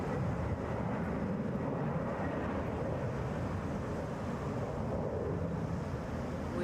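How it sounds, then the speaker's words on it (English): A Boeing 737 takes off at Atlanta's airport as a steady, loud, broadband jet roar that holds evenly throughout, with no voices over it. "That is a Boeing 737."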